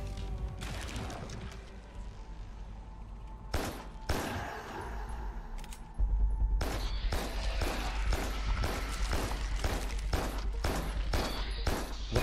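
Gunfire in the video game Carrion sounds as a sharp burst of shots, then a dense, fast run of loud repeated blasts over a low rumble of game ambience.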